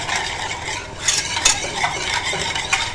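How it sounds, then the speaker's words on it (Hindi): Chocolate mousse cake ingredients are mixed in a bowl with a whisk or spatula, a continuous scraping, swishing stir with a few sharper clinks against the side, close and without talk. "अब हम इन सारी चीज़ों को मिक्स करेंगे। विस्क ले लें या स्पैचुला ले लें"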